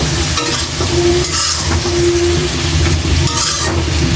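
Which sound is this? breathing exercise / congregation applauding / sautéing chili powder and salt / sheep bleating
sautéing chili powder and salt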